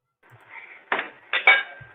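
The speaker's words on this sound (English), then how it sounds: "Sound like you're doing dishes in the back." Dishes are washed in the background of a caller's phone line, with a quiet clatter followed by several sharp clinks and knocks of plates and cutlery.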